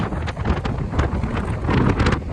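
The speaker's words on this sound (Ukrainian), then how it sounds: "дуже великий вітер" Heavy outdoor wind blasts across the microphone in continuous rumbling gusts, loud and close, with no one speaking.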